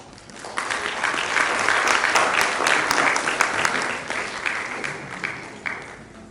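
Audience applause at an economics and management sciences faculty symposium following a guest's presentation, a broad sustained wash of many hands clapping that swells, holds steady, then gradually thins toward the end.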